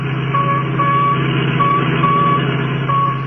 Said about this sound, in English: That's the signal from the radio in the Royal Coupe that they got away with.